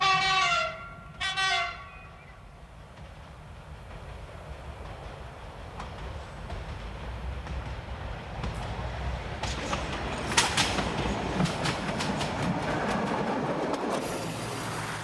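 Corsican X 97050 railcar on a mountain line, opening with two loud horn blasts, then a steady rumble of the train running that builds with rattling and clatter toward the end.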